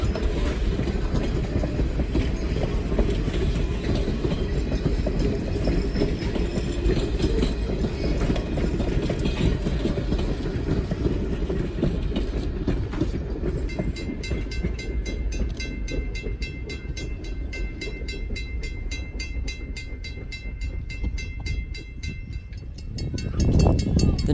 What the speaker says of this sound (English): Due to the lack of a turntable, Strasburg's locomotives have to run tender first to the end of the line